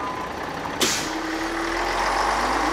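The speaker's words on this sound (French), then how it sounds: "Aldo traverse la ville, assis dans un bus" A city bus rumbles along with a loud, steady engine drone, punctuated near the start by one sharp hiss of its air brakes, followed by a faint tonal whine.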